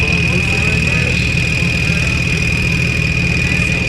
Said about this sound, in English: and just the idling, bro, it sounds insane